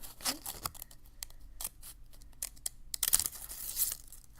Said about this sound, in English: I'm about to make the last little snip